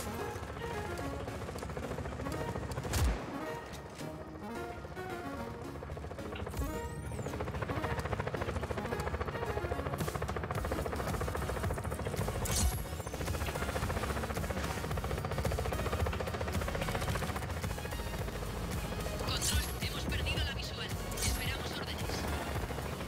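Helicopter in the open-world action game Just Cause 4, a steady rotor drone running through most of the stretch alongside crashes and bursts of gunfire, with someone talking over it.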